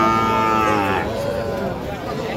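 Cattle at a livestock market: a cow's drawn-out, falling moo carries over a busy crowd and people talking nearby, then fades into the general market noise.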